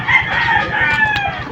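A young straight-combed gamefowl stag crows up close, a loud, harmonic call stretching across the stretch, over a steady pulse of low clucking and fowl noise with no talk.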